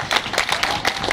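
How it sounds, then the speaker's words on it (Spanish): Audience at an Argentine tango night in Buenos Aires clapping, a brief burst of dense, steady applause from a crowd, close and fairly loud. "fuerte el aplauso"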